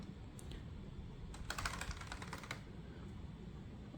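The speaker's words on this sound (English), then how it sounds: "As you can see, I'm typing randomly" Random typing on a Logitech MX Mechanical keyboard with tactile quiet switches comes through as soft, muted clicking. A dense, quick burst of keystrokes in the middle stands out, with a few scattered taps before and after, all at low volume.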